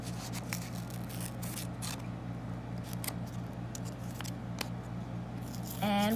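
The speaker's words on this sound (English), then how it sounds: "So I'm going to cut out flip-flops from the word bank." Scissors cut a word out of a paper word bank, giving soft, close snipping and crisp paper scrapes in short bursts over a low steady background hum.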